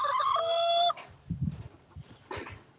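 A rooster crows loudly at the start, followed by soft, scattered clucks and short calls from hens close by in a coop.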